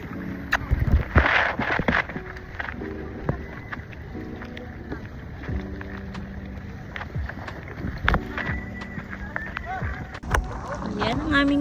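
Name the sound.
boat on the water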